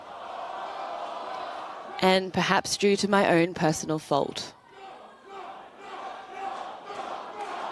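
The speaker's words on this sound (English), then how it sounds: "People in the audience are shouting no right now" Audience at a French presidential election-night speech shouting in loud, rhythmic bursts for a couple of seconds, set between stretches of someone speaking over a hall's murmur.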